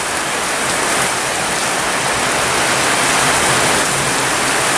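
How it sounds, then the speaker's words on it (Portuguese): Heavy rain falling in Conselheiro Lafaiete, Minas Gerais, Brazil, a loud, dense and unbroken roar of downpour with no other sounds. "Vocês já viram como foi forte essa chuva aqui na cidade de Conselheiro Lafaiete"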